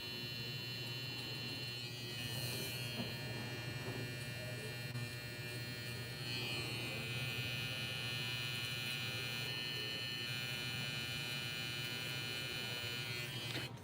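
An electric hair trimmer buzzes steadily while cutting a fade, a close, continuous electric hum with slight shifts in tone as it moves, without talking.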